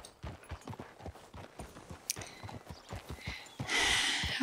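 Steady, even clip-clop of horse hooves trotting along at a quick rhythm in the video game Red Dead Redemption 2, fairly close, with a burst of broad hiss near the end.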